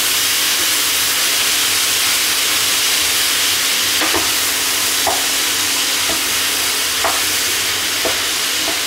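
Pork belly with silk squash and onions stir-fries over high heat in a loud, continuous sizzle, with a few sharp spatula scrapes and clacks against the pan every second or so.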